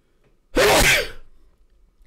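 A single loud, close sneeze bursts out in an otherwise quiet room, a sharp explosive blast that trails off over about half a second.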